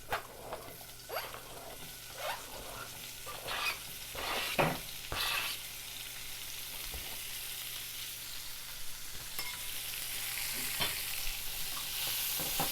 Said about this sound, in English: You're gonna let these guys just saute away in here.